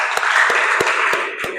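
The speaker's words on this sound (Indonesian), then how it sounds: "Beri tepuk tangan untuk kita bersama." A classroom of students claps in a handful of sharp, evenly spaced hand claps over a background hum of voices and room noise, close and moderately loud.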